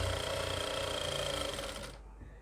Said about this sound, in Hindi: इस तरीके से हमें ये सिलाई लगानी है नाप के।